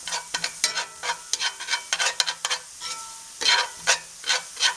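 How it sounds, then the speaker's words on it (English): Onions sizzle and fry in a cast iron skillet while being stirred, with a steady hiss broken by rhythmic scraping strokes, close and clear, with no talk. "We're going to cook these onions off for about just 2 or 3 minutes."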